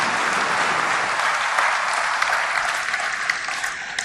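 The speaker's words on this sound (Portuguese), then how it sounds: "Mais uma salva de palmas." An audience at a church conference applauds steadily, a dense, sustained wash of clapping from many hands that tapers slightly toward the end.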